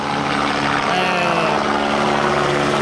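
A steady whirring drone of military helicopter rotors during a European Corps exercise in Altkirch, 1994, fills the air, continuous and fairly close, with no break over the short span.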